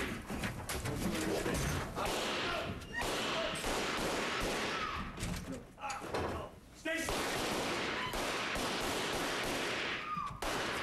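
Gunfire from a gunman at a school board meeting in Florida, with dense bursts of loud sharp shots and crashing noise over roughly eleven seconds, mixed with shouting voices and commotion.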